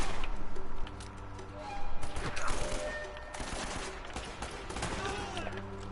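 Rapid gunfire in Uncharted: Drake's Fortune rattles in bursts over game background noise, loud at first and then fading, with a voice talking over parts of it.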